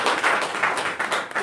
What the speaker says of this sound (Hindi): ये शुरुआत है, जोरदार तालियां होनी चाहिए।